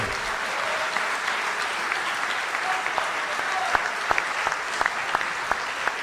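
Crowd applause at a political presentation: sustained, even clapping from a sizable audience, with a few sharper close claps and faint voices mixed in toward the end.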